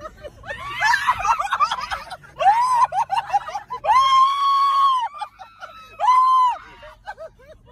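Screams from passengers on a desert safari ride, several loud high-pitched shrieks in bursts, the longest sustained ones near the end, mixed with laughter and excited voices.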